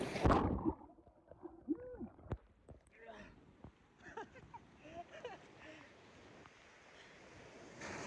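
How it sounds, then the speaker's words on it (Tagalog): A large ocean wave crashes loudly at the start, then wind and quieter surf wash continue beneath people talking and calling out. "Ay, malaki pala yung wave, oh."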